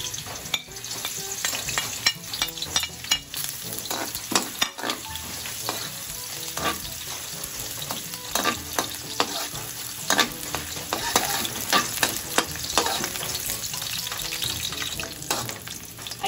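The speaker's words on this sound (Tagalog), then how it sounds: "Ang pagluluto po ng escabeche dito po sa amin ay igigisa." Chopped ginger sautéing in hot oil for a Quezon Province papaya escabeche, a steady crackling sizzle punctuated by irregular scrapes and clatters of stirring, close and continuous with no talking.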